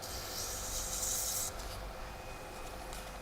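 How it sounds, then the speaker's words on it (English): Sandpaper rubs against a wooden turned ornament spinning on a lathe, a close steady abrasive hiss that eases after a second and a half, over the lathe's low hum, with no talk. "I'll hit it with sandpaper"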